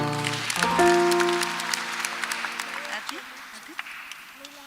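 Scattered applause from a church congregation in Thika, Kenya, rises as a sustained musical chord from praise and worship fades out, the clapping thinning into sparse, uneven claps near the end.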